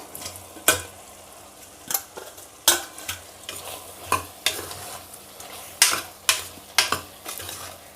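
A potato, prawn and mango curry stirred in a pan, a spoon scraping in sharp repeated strokes roughly every second over a low, steady sizzle, close and clear with no talk.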